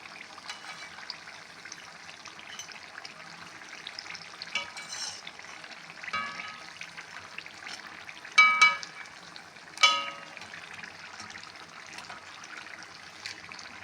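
Mullu murukku frying in oil over a moderate flame gives a soft, steady sizzle, with a few louder bubbling spurts and crackles as the pieces are turned.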